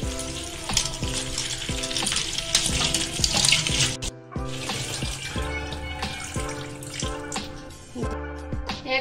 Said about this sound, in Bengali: একবার ফ্রাই করে নেব ফুলকপি গুলোকে।